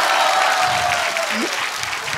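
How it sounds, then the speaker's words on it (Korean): A church congregation bursts into dense, steady applause that fills the space, with a few voices calling out faintly beneath the clapping. "박수"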